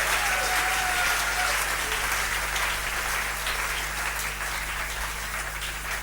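A church congregation applauds and cheers for Jesus Christ at a sermon, steady dense clapping filling the whole stretch at even loudness, with a low constant hum underneath and no clear speech.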